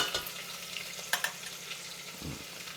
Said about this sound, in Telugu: చూడమ్మా, చక్క పచ్చిమిరపకాయలు, ఉల్లిపాయలు ఇవి వేగుతున్నాయి కదా